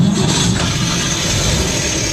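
A 1950 Chevrolet truck engine runs with a steady, close, low rumble at idle, continuous and without pauses, no voices over it.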